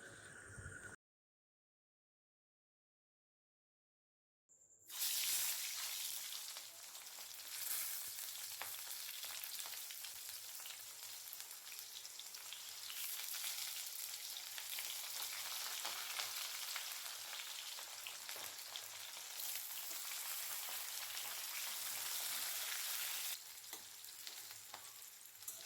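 Onion, garlic and capsicum fry in a pan for chilli potato gravy, giving a steady, dense sizzle that starts abruptly after a few seconds of silence and keeps going evenly throughout, with no voices.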